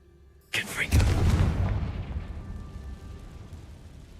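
The Confringo explosive spell in Hogwarts Legacy goes off as a single sudden booming blast, its rumble fading slowly over several seconds.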